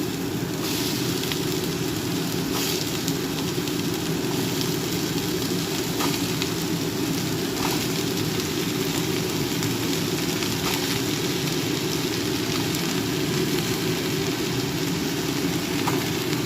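Onions frying in oil in a pan for aloo paratha: a loud, dense, steady sizzle that runs unbroken throughout, close up with no talking.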